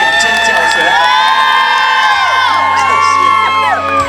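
A concert crowd at an outdoor community festival in Pingtung screams and cheers loudly, a dense wash of shrieks and whoops from many people, with music still ringing underneath.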